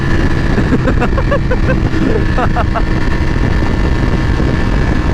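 Restricted motorcycle ridden at speed, its engine a steady low drone buried under heavy wind rush at the microphone, with faint voice-like murmurs in the noise.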